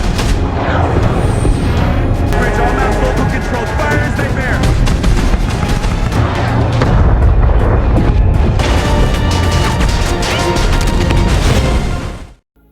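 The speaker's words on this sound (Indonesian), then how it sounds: "untuk meningkatkan akurasi tembakan dari setiap meriam, akhirnya Greyhound bisa menghancurkan satu kapal selam Jerman itu" Warship cannon fire from the 2020 war film Greyhound: continuous heavy booms and blasts crowd together, loud and dense throughout, with crashing impacts before the sound cuts off at the end.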